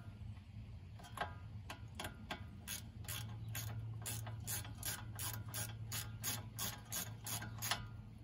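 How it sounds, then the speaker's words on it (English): A ratchet wrench tightens a rear brake bolt on a 2015 Jeep Cherokee Trailhawk, giving a long run of quick, even clicks, fairly close and moderately quiet over a low steady hum, with no talking. "We'll do this bottom one now. Get the wrench on there."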